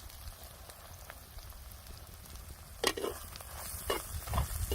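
Masala spices roasting in hot oil for a village-style zunka with ground lentils, garlic and chilli: a steady, soft crackling sizzle with a few sharper stirring scrapes and pops toward the end, fairly close and moderately quiet.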